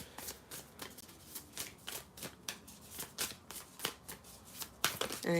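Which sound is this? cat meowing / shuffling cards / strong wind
shuffling cards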